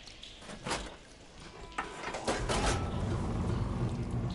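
In the video game Horizon Forbidden West, the water flow in a piece of machinery is switched: mechanical clunks and sliding thuds, followed by a swelling rush of flowing water that keeps going, all fairly close with no talking.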